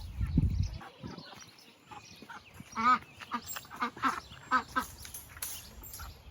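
Ducks quacking on a homestead, a run of short nasal calls and honks at close range after a low thump, with a faint voice in the background.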